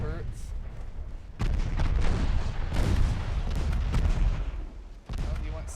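Heavy 8.5-inch naval guns firing from double turrets on warships in Ultimate Admiral Dreadnoughts, loud booming salvos with rumbling blasts that overlap and roll on, sharp new onsets near the start and end.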